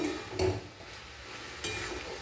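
A spatula scrapes and stirs a thick coconut mixture in a wok, with a couple of sharper knocks against the metal over soft background hiss.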